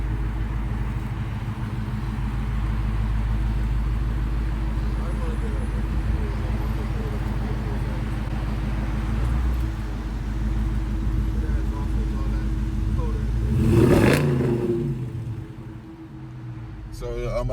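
A Dodge Challenger fitted with a K&N cold air intake idles with a deep, steady exhaust rumble, then revs once to a louder swell before settling, with someone talking over it.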